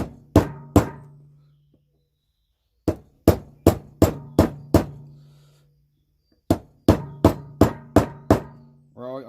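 Sharp metal hammer blows drive a bearing into a John Deere 3330 mower deck. They come in three bursts of two, five and seven ringing strikes, loud and close, with the later hits landing solid.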